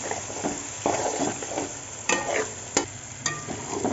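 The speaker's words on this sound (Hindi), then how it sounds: "अब इसको इसमें भून लेंगे हम, फ्राई करेंगे" Chicken meatball kofta frying in a pan, a steady sizzle throughout with a few sharp scraping stirs and clinks cutting through, close and fairly loud, no talking.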